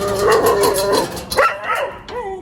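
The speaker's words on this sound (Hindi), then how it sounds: "अरे कुत्ते काट रहा है यार, काट रहा है यार" A small but spirited dog gives a few close, loud barks and yips mixed with whimpering, with voices of people at home alongside.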